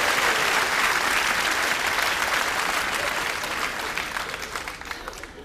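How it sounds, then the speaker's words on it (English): Loud, sustained applause from an audience, dense clapping that stays strong and tapers slightly toward the end. "Let's give him a nice round of applause."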